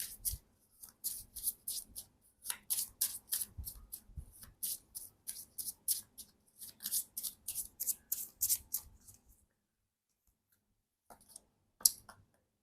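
Romance Angel oracle cards being shuffled by hand, a quick series of crisp riffling flicks in a steady rhythm for about nine seconds, then near silence with a couple of faint taps and one sharper click at the end.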